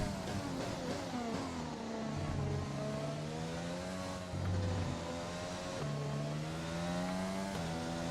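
Formula 1 car engine in the F1 2020 racing game at the China circuit, a steady high-pitched whine with rising and falling gear-shift tones, continuous and fairly close throughout, no talk.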